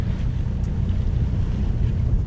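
A sailing boat motors under engine at sea, a steady low rumble of engine and water rush with wind buffeting the microphone, continuous and loud with no talk.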